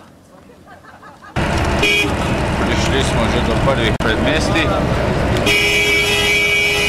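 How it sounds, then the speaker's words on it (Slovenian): Car horn honking on a road near Lhasa, with sustained toots over loud, close engine and road roar inside the vehicle while someone talks. "trobi kar naprej naš šofer"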